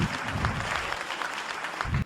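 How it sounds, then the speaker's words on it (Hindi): Audience at a Hindi poetry recital breaks into brisk, dense applause to welcome a female poet, a short, steady burst of many hands clapping that cuts off abruptly. "जोरदार तालियों से उनका स्वागत"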